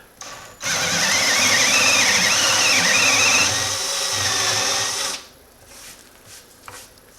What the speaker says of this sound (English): we're going to drill pockets with the Forstner bit